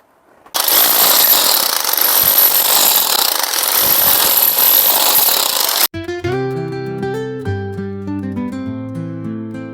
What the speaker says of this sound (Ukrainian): взяв болгарку, пропилів і вибіжав нафік на вулицю